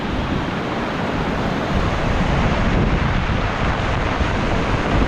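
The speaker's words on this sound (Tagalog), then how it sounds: "malakas na ang hangin malakas na ang ulan" Strong typhoon wind roars with heavy rain in a dense, constant wash of noise, buffeting the microphone throughout.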